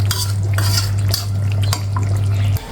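Bitter gourd and potato curry with snakehead fish is being stirred in a pan, with steady scraping and clinks of the spoon over a low constant hum from the stove or fan, close and fairly loud.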